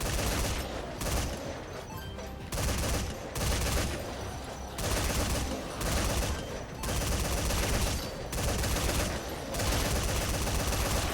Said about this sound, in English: they're just giving me offensive machine guns